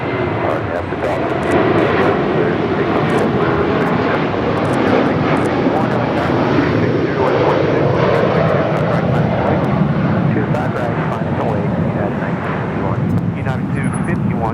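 A JetBlue jet airliner takes off from runway 25 Right at LAX, its engines producing a loud, steady roar that holds throughout, with radio talk heard over it.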